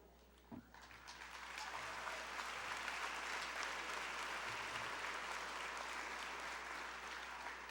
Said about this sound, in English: please hold your applause for the entire stage